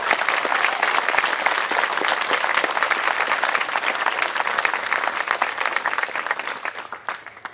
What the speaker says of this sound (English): Let's give one more big round of applause for class of 2025.